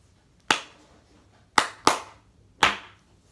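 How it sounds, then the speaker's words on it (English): Four sharp hand claps tap out a rhythm from a trombone practice exercise: a single clap, a pause, two quick claps close together, then one more, close and dry with no talk. "I'll clap the one I finished for you."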